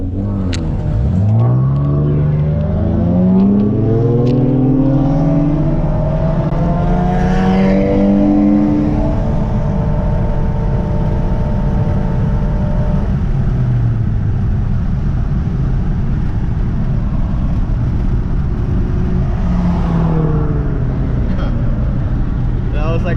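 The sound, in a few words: car engine revving to rev limiter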